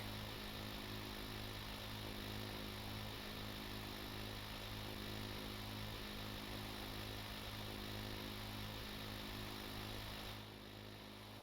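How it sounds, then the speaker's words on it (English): Deep water oil well drilling rig in Stormworks, a steady loud mechanical drone with humming engine tones running unbroken, easing slightly near the end, no talking. "We are still drilling, albeit very, very slowly."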